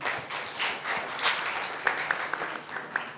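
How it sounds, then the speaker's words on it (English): An audience at an expo grand finale claps for a team, a dense, continuous wash of applause with a few sharper individual claps standing out toward the end, no talking over it. "Guys, let's clap for this team."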